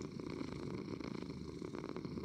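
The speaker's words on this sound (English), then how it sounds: "but they're purring" Cats purr softly in Minecraft gameplay, a quiet, steady low rumble with rhythmic pulsing, close and faint, with no voices over it.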